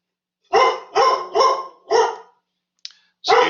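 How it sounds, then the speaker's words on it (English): A dog barks four times in quick succession, loud and close, then gives a short yelp and one more bark after a brief pause. "it's my dog barking"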